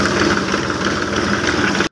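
A tractor engine runs at a steady, loud idle-like drone up close while pulling out a trolley stuck low in the ground, then cuts off abruptly at the end.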